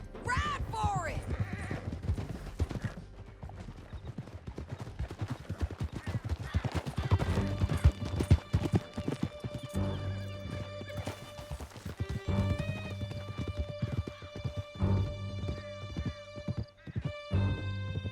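Galloping horse hoofbeats pound steadily throughout a Red Dead Redemption 2 ride, with a neigh early on, scattered gunshots and a musical score underneath, and people talking over it.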